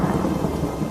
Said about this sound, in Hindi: अरे देखो, बारिश शुरू हो गई।